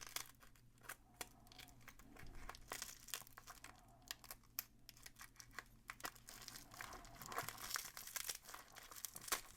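A taped plastic Prime mailer bag is pulled and torn open, with close, quiet crinkling, crackling plastic and sharp tape rips scattered irregularly throughout.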